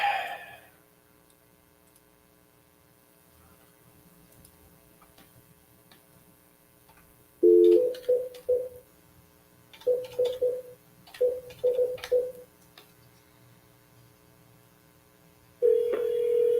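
Telephone call tones: steady hum, then short bursts of pitched beeps in groups, and a sustained tone at the end, on a quiet line with no voices.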